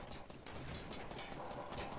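Minigun fire in a video game, a faint, continuous rapid rattle of shots lasting about two seconds, heard from a distance with no talk.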